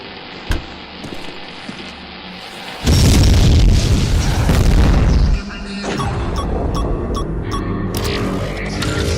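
A grenade blast erupts in an action video game, a loud sustained boom lasting a few seconds, then rumbling debris and crackle over ongoing game noise.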